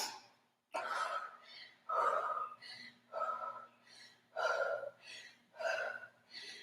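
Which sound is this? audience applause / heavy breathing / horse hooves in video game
heavy breathing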